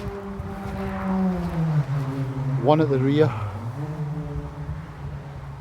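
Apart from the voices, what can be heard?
motorbikes passing nearby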